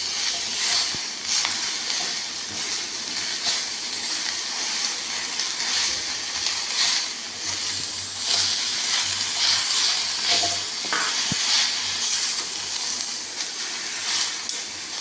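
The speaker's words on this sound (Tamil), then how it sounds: "நல்லா சேர்த்து கிளறி விட்டுக்கோங்க." Curry leaf mixture for an iron-rich curry leaf thuvaiyal stirred in a hot pan: a constant close sizzle and hiss with faint scraping stirs throughout, heard alone without speech.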